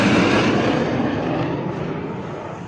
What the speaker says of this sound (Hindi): आसमान में सुखोई की गड़गड़ाहट